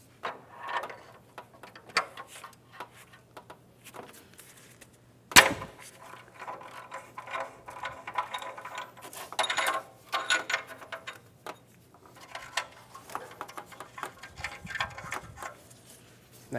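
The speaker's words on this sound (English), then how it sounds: "Using a 22 millimeter socket, we're going to remove the oxygen sensor." A ratchet on a 22 mm socket loosens an oxygen sensor, giving faint intermittent clicking bursts with one sharp metallic knock, amid quiet pauses and a low background hum.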